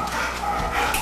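A scared dog gives a brief, faint whimper, with a soft whine heard against indoor room noise.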